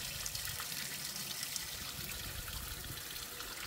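Clear water flows steadily through an overflow settling tank in a backyard, a continuous even rush and trickle heard alone.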